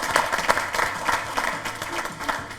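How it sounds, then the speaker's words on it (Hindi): Applause from a studio audience at a Diwali television show, honouring the poet Piyush; steady, dense clapping of a sizable crowd, fairly loud and close, with a few sharper claps standing out. "बहुत जोरदार तालियां आप बजाइए जरा पीयूष के लिए"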